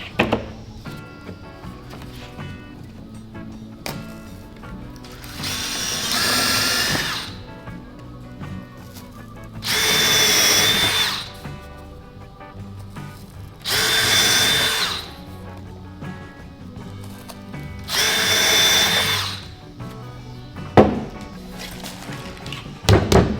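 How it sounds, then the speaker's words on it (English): A power drill whines in four separate bursts, each a few seconds long, drilling through cardboard and a plastic bucket lid, with quiet pauses and small knocks between them, up close. "Now I can just lay the cardboard over the lid of the bucket, drill right through it."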